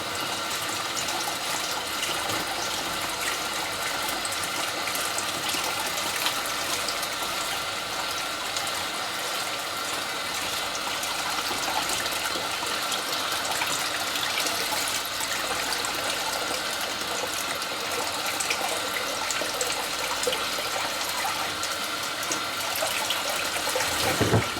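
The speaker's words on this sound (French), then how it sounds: "je vais tout de suite me rincer le doigt" Steady running water from a tap pours continuously while a finger is rinsed after cleaning a BMC air filter, a broad even gush with no talk.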